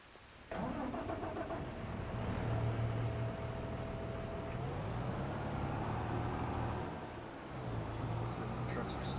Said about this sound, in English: Alright, we'll grab this next tractor.